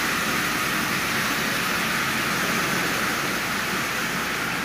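Marx 999 tin toy train engine with its small electric motor running, a steady, even whirring hiss that holds constant throughout without voices.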